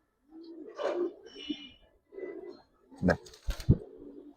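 Giribaz pigeons coo in several short, soft, throaty bursts close by, with a louder pair of coos near the end and a brief spoken word among them.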